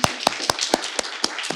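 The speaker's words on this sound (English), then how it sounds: "can we have a round of applause for all these amazing poets sharing their work?" Sparse clapping follows readings at a library poetry event, a few sharp, distinct hand claps spaced about a quarter second apart, close and fairly loud, with little crowd noise.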